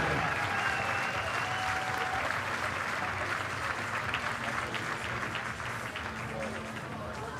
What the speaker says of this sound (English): Please, a round of applause for all the competitors in the women's 400 IM